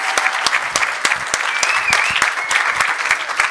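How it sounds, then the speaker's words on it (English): An audience at a hybrid media literacy forum in Helsinki gives a warm round of applause, a steady, close patter of many hands clapping throughout without pause. "to my co-host Alex, who I think needs a really, really warm round of applause"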